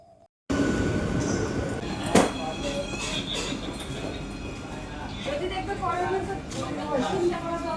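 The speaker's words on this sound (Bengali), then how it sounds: "ওই দেখো ট্রেন চলে এলো।" A train running, heard as a sudden onset of heavy rumbling and rattling that stays loud and steady, with a sharp clank early on, faint squeals and voices mixed into the noise.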